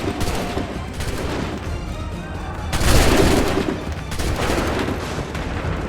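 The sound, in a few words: gunfire volley in Assassin's Creed 3 video game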